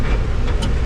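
A pickup truck, unloaded, pulls out of a driveway, its engine a loud, steady close rumble with no voices.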